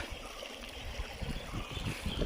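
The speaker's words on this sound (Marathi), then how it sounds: "बघा एवढं पाणी वरून वाहतंय आहे" Water runs steadily down from higher ground into a bailed-out pool during traditional summer fishing in the Konkan, making a continuous close trickling, gurgling wash that fills the whole stretch with no voices.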